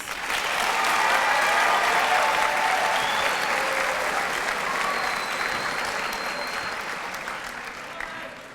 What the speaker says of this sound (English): Let's give another round of applause for our student speakers.